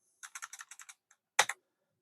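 A quick string of about nine keystrokes on a computer keyboard, then a louder, sharper tap like the Enter key. Close and fairly quiet.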